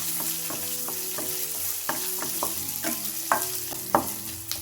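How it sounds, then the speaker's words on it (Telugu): Onions, green chillies and curry leaves frying in oil: a steady sizzle broken by sharp, irregular scrapes and taps of a spatula against the pan, close and alone. "కొంచెం కరివేపాకు వేసుకొని ఆనియన్స్ అంతా ద్వారగా వేయించుకోవాలండి"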